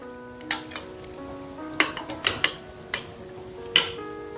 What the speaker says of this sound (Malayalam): സിറപ്പ് നമ്മൾ ഒഴിച്ചു കൊടുത്തു എന്നിട്ട് മെല്ലെ ഒന്ന് ഇതിൻ്റെ തവി വെച്ച് ഒന്ന് ഇളക്കി കൊടുക്കുക